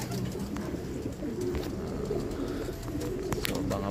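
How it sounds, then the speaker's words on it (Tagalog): Pigeons cooing in a low, rumbling, repeated murmur that carries on steadily through the moment, mixed with broadband outdoor noise and faint scattered chirps. "Pasok na yun mga kalapatids."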